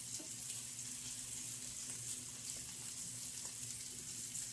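A steak dinner cooks in a pan on the stove, giving a steady, continuous broadband sizzle with no pauses and no voices.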